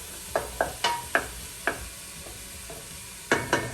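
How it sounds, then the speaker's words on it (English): Ground beef browns in a pan under a faint sizzle, broken by several distinct scraping stirs from a utensil that come in an uneven rhythm, close and fairly loud. "Now, I get this all nice and browned up."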